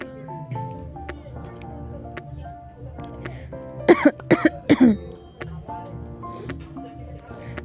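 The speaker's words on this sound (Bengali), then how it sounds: "বড্ড কাশি হয়েছে কবে থেকে কাশি হয়েছে এখনও পর্যন্ত কাশি কমার নাম নেই" A burst of three or four harsh, close coughs comes about midway, with quieter background sounds and low murmuring before and after.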